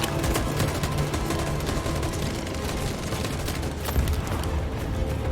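Dense, continuous gunfire from a battle in Detroit: Become Human, a steady barrage of overlapping shots with occasional heavier booms, loud and sustained throughout without any talking.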